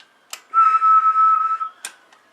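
A single sustained whistle, loud and close, is blown into a Cobra 139XLR CB radio microphone, held steady for about a second, framed by a couple of short clicks.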